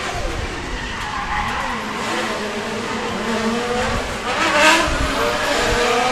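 Three drift cars slide around a corner together at a British Drift Championship pro-am battle at Teesside, a continuous loud roar of high-revving engines and skidding tyres that swells near the end.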